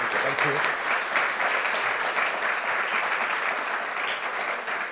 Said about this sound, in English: join me, please, in a big applause to